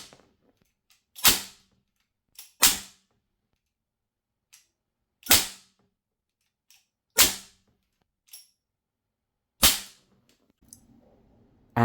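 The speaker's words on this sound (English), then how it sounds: "first up the 44 Magnum, and this time it's 6 sheets and I'm gonna try 6 shots." An Umarex 44 Magnum airgun fires six sharp, loud shots, each a crisp crack at irregular intervals of one to two seconds, with faint handling clicks between and no talking.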